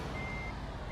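A truck's reversing alarm beeps in a truck driving video game, a steady high electronic tone sounding over a loud engine drone.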